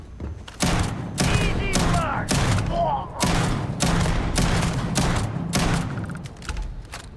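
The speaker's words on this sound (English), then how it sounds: "This shotgun works." Shotgun fire in the video game Starfield, a rapid run of loud booming blasts with other gunfire and impacts in a busy firefight, while a voice talks over it.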